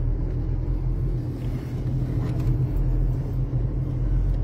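A car drives along a street near the Federal Police building, its engine a steady low rumble throughout, loud and close with road noise, no talking.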